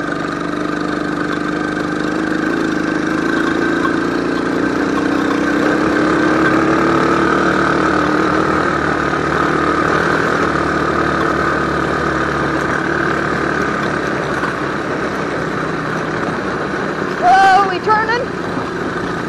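A car engine runs steadily in third gear while driving, giving a continuous mid-range drone with a low rumble. A voice talks over it, and a brief higher squeak comes near the end.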